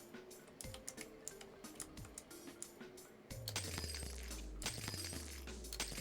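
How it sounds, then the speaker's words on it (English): Glass shatters and tinkles repeatedly as a game sound effect in Museum of Oddities: A Fool's Art Gallery, with crisp breaking bursts over clicking, then a louder stretch with low swooping tones. "Broken glass every single time I interact with the wrong object."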